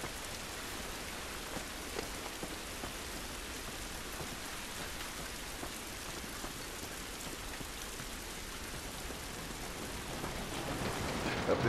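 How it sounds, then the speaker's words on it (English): Steady, dense rain falls outdoors in The Last of Us, a broad unbroken hiss with scattered droplet taps that swells slightly louder toward the end, heard alone without talk. "It's raining."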